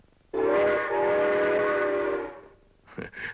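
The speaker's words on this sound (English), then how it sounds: "how does a train go?" A single long, loud train whistle blast sounds close by for about two seconds, followed by a couple of short fainter toots.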